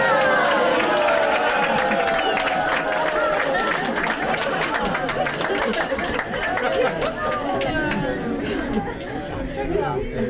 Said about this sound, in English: See, we came here Hawaii, so everyone's clapping.